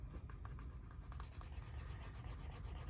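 A burnishing stick rubbed back and forth along the edge of a leather wallet with light pressure, a soft continuous friction sound with faint repeated strokes, close and steady with no voices.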